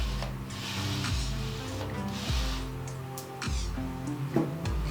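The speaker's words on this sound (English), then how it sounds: "move this side by side to make sure that the movement is smooth" Prusa MK4 3D printer axis pushed by hand back and forth with the stepper motor engaged, producing a grinding, ratcheting whir that rises and falls with each stroke, close and without talk.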